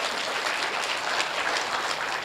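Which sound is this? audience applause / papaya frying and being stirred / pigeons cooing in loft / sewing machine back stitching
audience applause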